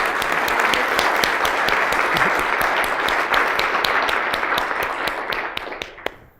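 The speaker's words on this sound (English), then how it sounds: "we could all give him a round of applause" Loud, dense applause from a local business-community audience honoring an event organizer, many hands clapping steadily for several seconds before thinning out and stopping.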